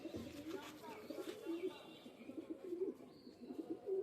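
An Andhya pigeon gives low, repeated soft coos at close range, with faint background voices and a little rustle.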